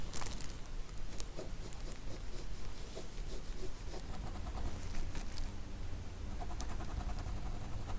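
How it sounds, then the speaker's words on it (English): A mechanical pencil scratches over paper in close, soft strokes while an ostrich is being drawn and detailed, a steady run of quick scribbling and hatching that continues unbroken, with no talk. "now I'm going into more detail with this mechanical pencil"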